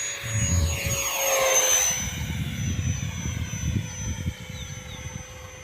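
A 64mm electric ducted fan model Su-27 jet on a 3S battery whines loudly overhead, its pitch sweeping down as it passes, followed by steady rushing engine noise.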